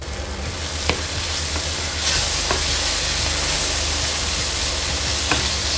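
Soya meat chunks sauté in a pan with soy sauce, giving a steady, loud sizzle with a few scrapes and clinks as a utensil stirs through the mixture, no voices.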